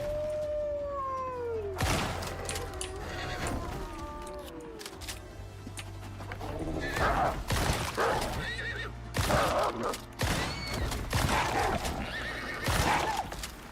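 A horse in the video game Icarus, a long descending whinny followed by snorts, heavy hoof clip-clops and rough growling calls from another creature, loud and close, with a voice speaking briefly.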